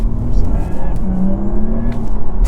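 A Porsche Taycan GTS Sport Turismo electric car accelerates hard, heard from inside as a low steady electric motor whine rising in pitch beneath road rumble, with brief voice sounds over it.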